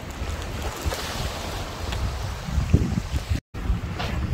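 Ocean waves wash ashore at Ilgwang beach under gusting wind and microphone buffeting, a soft, irregular surf rush with swells building and receding over a few seconds.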